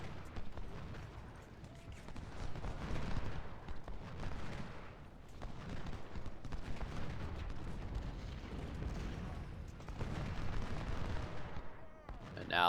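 Grenadiers' rifle fire in a Civil War video game battle at Port Republic, a continuous rumbling spread of distant musketry and booms rolling on for several seconds, with a voice speaking over it.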